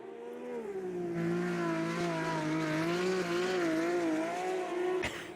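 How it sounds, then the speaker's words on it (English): A race car in Automobilista 2 oversteers through the last corner at Hockenheim, its engine holding a loud wavering tone with tires squealing, ending in a sharp thump. "it's coming up to the last corner, and our big celebratory oversteer moment"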